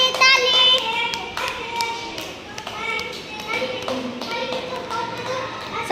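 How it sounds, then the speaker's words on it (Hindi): Children clap their hands in a sharp, quick rhythm in a classroom lesson with a teacher, the claps mixed in with chanting children's voices throughout. "ताली पीटो"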